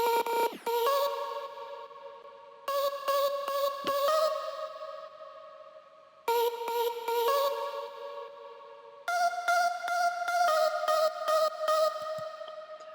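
A single future bass vocal chop sample plays alone on a sampler, repeating sustained pitched notes in four phrases with shifting pitch, bright and echoing, with no talk.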